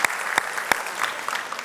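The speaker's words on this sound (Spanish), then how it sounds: "Dale ese fuerte aplauso al Señor." Loud, sustained applause from a church congregation, dense clapping filling the room, with a few sharper claps standing out near the front.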